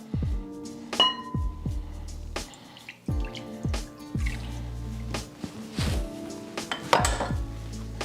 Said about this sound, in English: I wanna go ahead and just crack my eggs